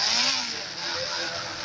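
In the Indian Bike 3D game, a vehicle engine hums continuously at a steady drone with a faint rising tone, fairly loud, with no speech.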